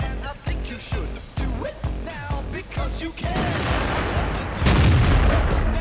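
A tank cannon in World of Tanks fires at a KV-3. A series of sharp, loud shots repeats about every half second, then gives way to a dense, noisy rumble of battle.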